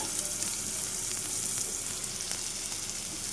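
Onions frying in a pan with garlic paste just added, making a dense continuous sizzle close by, with a light scrape of stirring and no voices.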